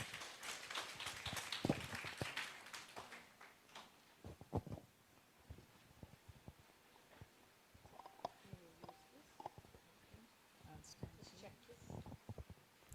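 An audience applauds to welcome a speaker at a talk on stem cells, with dense clapping in the first few seconds that thins to scattered claps and some talk.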